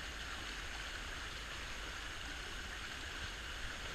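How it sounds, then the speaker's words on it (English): Fast-flowing water in San Antonio Creek rushes steadily, a loud, dense and unbroken wash that fills the whole moment with no voices. "It's pretty fast water right here."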